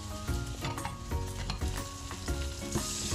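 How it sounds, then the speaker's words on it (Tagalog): Pork pieces seasoned with salt and pepper sear and sizzle in a pan for a Filipino binagoongan, with steady frying crackle broken by repeated scraping stirs, fairly close, no voices. "hayaan lang natin itong ma-sear ng konti"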